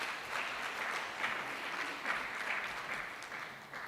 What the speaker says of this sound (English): let us clap hands